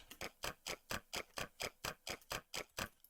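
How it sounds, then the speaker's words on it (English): A ticking clock sample used in a music track gives a steady, quick run of close, bright ticks, about four per second and evenly spaced, at low volume with no voices. "and this clock,"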